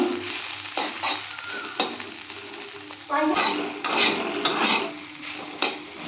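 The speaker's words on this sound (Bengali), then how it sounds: "কুচো কুচো আলু ভাজা হচ্ছে" Finely chopped potatoes fry in a pan with a soft, ongoing sizzle, broken by sharp clanks of a utensil against the pan, while a person talks nearby.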